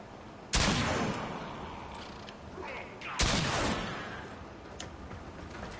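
The Snipetron sniper rifle fires in the video game Warframe, two loud, sharp shots a few seconds apart, each followed by a ringing decay and faint mechanical clicks.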